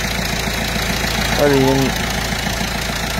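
A rebuilt 1.6 HDi diesel engine idles after a full overhaul with a complete timing kit, giving a steady, close, low clatter, while someone briefly speaks over it midway.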